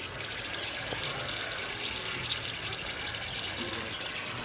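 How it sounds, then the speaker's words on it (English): Water pouring into a pump suction pipe at a well site, a steady close rushing gush with bubbling, continuous and fairly loud, no talk. "I think it's filling right now, Tatai."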